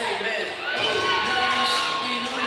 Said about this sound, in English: you watch the Charleston cheerleaders do their entrance cheer they always do for the Blue Jays